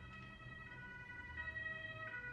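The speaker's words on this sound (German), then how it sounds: "auf einmal ist ein Krankenwagen. Polizeisirenen die ganze Zeit." Emergency siren at night, an ambulance or police wail with a sustained tonal rise and fall, moderately distant and steady over faint background noise, no talk.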